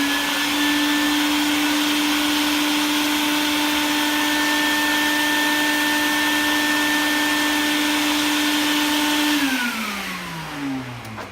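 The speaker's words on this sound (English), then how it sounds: "then you turn on the shop vac" A shop vac sucks across a wet vinyl record on a record-cleaning machine, a loud steady whine and rush holding for about nine seconds before the motor winds down and fades out.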